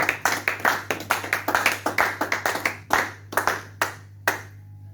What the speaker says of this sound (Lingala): Acclamons très fort pour l'amour de Jésus.